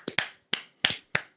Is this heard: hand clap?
yes